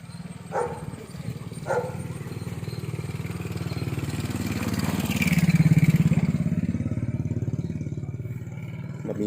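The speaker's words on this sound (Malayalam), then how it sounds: "ബൈക്ക് വരുന്നു, മാറിക്കോ" A motorbike approaches along a walled lane, its engine hum swelling to a peak partway through before easing off, with two sharp dog barks near the start.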